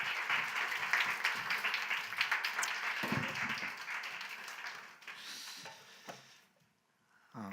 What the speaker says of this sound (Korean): 우리 박수로 우리 맞이해 주시면 감사하겠습니다